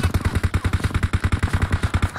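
A rapid automatic burst in the battle royale shooter PUBG, with about twenty evenly spaced punchy shots fired close and loud for over two seconds.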